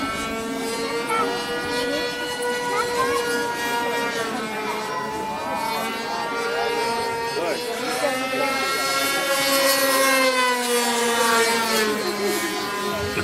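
An aerobatic aircraft engine flies airshow maneuvers with a loud, continuous propeller drone whose pitch rises and falls as the plane rolls and turns, staying strong throughout.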